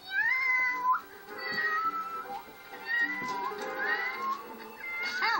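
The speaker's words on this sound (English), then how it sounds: "What a little cat, I swear." A cartoon cat meows repeatedly in a long, wavering, whiny voice. The cries are loud and close and carry on for several seconds with short gaps, and no one speaks.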